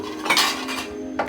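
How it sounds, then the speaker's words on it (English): Dishes, pots and cutlery clatter and clink loudly while being washed up, with a few sharp metallic knocks close by and no talking. "but you have to do the dishes, right?"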